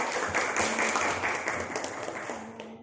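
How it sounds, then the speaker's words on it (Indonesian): Applause for a presenting student group in an Indonesian classroom: a steady wash of many hands clapping at moderate loudness, continuous through the whole stretch and thinning slightly toward the end. "silakan beri aplaus untuk kelompok ini"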